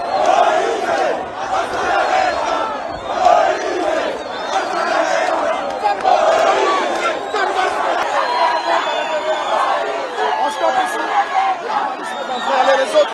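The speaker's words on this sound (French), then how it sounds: "Une foule immense chantant et scandant son nom était venue l'accompagner." Huge crowd of supporters of a Congolese cardinal at a polling station during a presidential election, loud massed voices chanting and shouting continuously, a dense roar of cries and chatter throughout.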